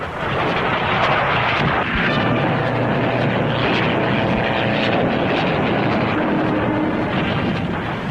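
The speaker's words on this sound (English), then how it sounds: "Bouncing down the improvised metal runway, they head straight for the enemy target, an old, well-fortified Italian city." WWII fighter planes roll over an improvised metal runway, a loud steady propeller-engine roar with broadband rumble filling the whole stretch, no voices heard.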